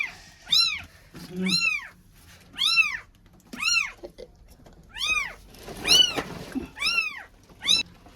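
Three newborn kittens found inside a house mew over and over, high and close, about eight sharp cries in a steady rhythm with short pauses between.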